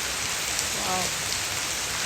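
Rain falling steadily in a village, an even broadband hiss of drops on surfaces with no thunder. A faint voice briefly comes through under the patter.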